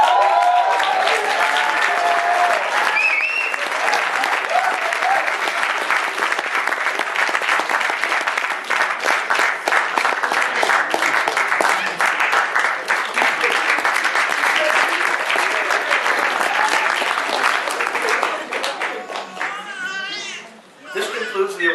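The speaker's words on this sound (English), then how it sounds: "Now let's give all of the fellows one last big round of applause." An audience at a graduation and certificate ceremony for fellows gives a long, loud round of applause, dense steady clapping for about twenty seconds with scattered voices and cheers mixed in before it tapers off.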